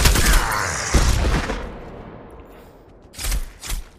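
A grenade detonates in the Pavlov VR shooter with a loud, close blast that decays into a rumbling tail, followed by two shorter thuds near the end.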